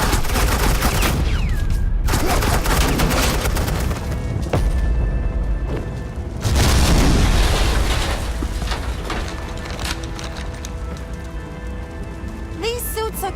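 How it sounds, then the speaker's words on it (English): Rapid bursts of suppressing gunfire from a video game scene in Batman: The Enemy Within, dense crackling shots with booms layered over a continuous noisy backdrop, loud and sustained throughout. "suppressing fire."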